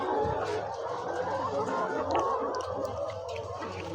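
Crowd of sick layer hens on a poultry farm clucking and murmuring continuously, a dense, close chorus of overlapping calls with no single bird standing out.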